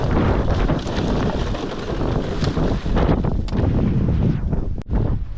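Strong wind blows at the seashore, buffeting the microphone with a loud, continuous roar that rises and falls in gusts.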